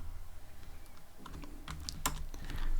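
Keys clatter on a computer keyboard as Python code is typed in a multiple inheritance programming example, with quick irregular clicks that bunch together and grow denser toward the end, close and fairly soft with no talk.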